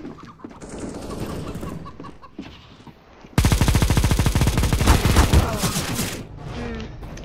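A weapon fires in CS:GO, letting off a loud, rapid automatic burst of several seconds after quieter game sounds at the start.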